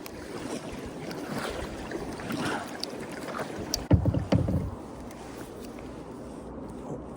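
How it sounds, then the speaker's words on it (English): Wind buffeting the microphone while kayak fishing for walleye on the Mississippi River in spring, a steady rushing roar with a few sharp gusty thumps near the middle. "The wind is just killing me right now."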